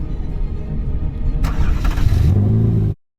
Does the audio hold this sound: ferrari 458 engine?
yes